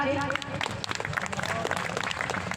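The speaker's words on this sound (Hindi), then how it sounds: "अब एक बार जोरदार तालियां बजा दीजिए" Audience at a mushaira poetry gathering clapping loudly, a dense, sustained wash of applause from a crowd with some voices mixed in.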